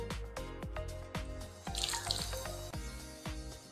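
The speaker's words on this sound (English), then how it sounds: "Just wring it out really hard." Water drips and splatters from a chamois and microfiber car drying towel being wrung out hard, a quiet, close series of irregular drops and squishy trickles.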